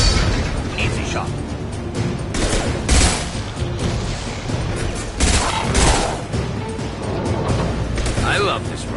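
Rifle fire in Mass Effect 2 crackles in dense, repeated bursts with booming impacts, loud and continuous across the scene, mixed with game noise.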